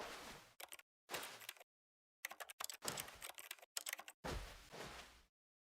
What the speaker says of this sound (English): Every time we click our mouse buttons, the game makes keyboard noises like we're typing away at our office at work